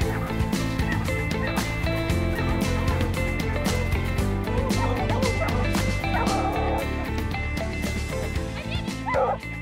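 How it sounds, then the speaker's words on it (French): Hunting hounds bark at a raccoon treed in the woods, a dense run of close, loud barks and yips that continues without a break, with some whimpering yelps mixed in. "il va parce qu'on a entendu japper"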